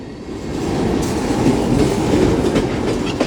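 A Union Pacific mixed freight train made up of tank cars rolls past on the near track at a good clip, a loud, steady rumble with rhythmic wheel clatter filling the whole stretch.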